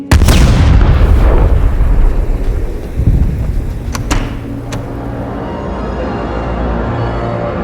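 A massive implosion sound effect from the film Annihilation: a sudden, loud, thunderous boom that rolls into a long, deep rumble, with a few brief sharp crackles before fading into a low sustained roar.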